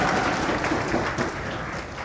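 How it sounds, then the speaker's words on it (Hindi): Students in a coaching classroom clap together, a steady dense patter of hands that fills the room and holds at an even level for about two seconds with no voices over it. "तालियां बजा दो, 100 रुपए का कलेक्शन हुआ।"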